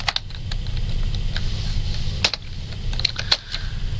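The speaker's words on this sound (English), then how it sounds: "you're going to tab with your tab key on your keyboard and type" Sparse keystrokes on a computer keyboard, a few isolated taps and clicks spread over several seconds, close over a steady low background rumble.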